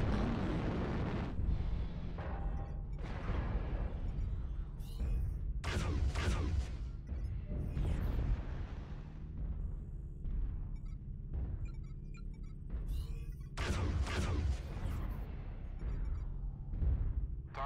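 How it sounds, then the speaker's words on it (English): Artillery strikes in the video game MechWarrior Online land as a series of heavy, booming explosions and bursts, several loud impacts in uneven succession with rumbling between them. "Artillery strike online."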